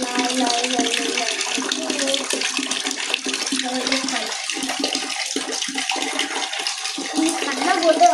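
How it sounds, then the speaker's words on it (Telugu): Tap water runs steadily while food is rinsed in a sink, a continuous splashing stream close by with irregular splatters as the food is moved, and a voice speaks over it in places. "వాష్ చేసుకోవాలి. వాష్ చేసుకొని సపరేట్ ఇలా"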